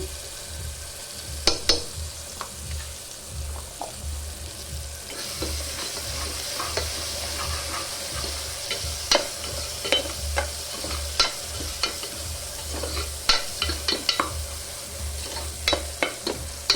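Ginger paste sizzles and fries in a pan for goat leg curry, with repeated scraping stirs and clicks of a spoon against the pan over a steady frying hiss and a low background hum.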